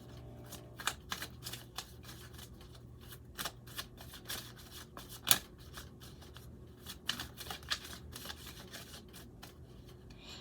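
Tarot cards are shuffled and handled during a personal reading, giving quiet, irregular riffling and flicking bursts that cluster in places against a faint low hum.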